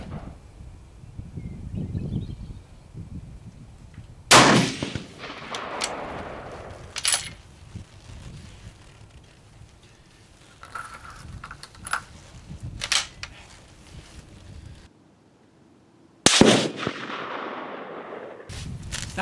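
Steyr rifle shots ring out at an outdoor shooting range, several loud sharp reports spaced seconds apart, each followed by a brief echo and low background rumble.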